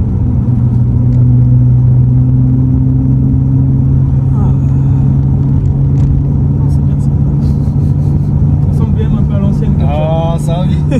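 BMW M3 E46 with its six-cylinder engine and manual gearbox, driven on the road: a steady low engine drone and rumble throughout, with people talking in the cabin over it.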